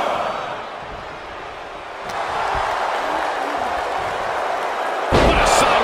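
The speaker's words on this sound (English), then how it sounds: "What a sidewalk slam!" A sidewalk slam lands in a WWE 2K24 SmackDown wrestling match, with crowd noise and a commentary voice running underneath and a sharp, loud impact thud near the end.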